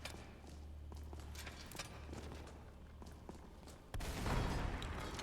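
In Skyrim, a sudden deep boom cuts through a quiet stretch of scattered thumps and clicks, followed by a rumbling tail.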